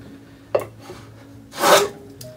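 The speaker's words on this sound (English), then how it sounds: "it's not only giving me a nice shaving, but it's giving me a nice flat surface here" A Stanley 289 fillester plane shaves wood in two strokes: a short rasping pass, then a longer, louder swelling one, close up and with no talking.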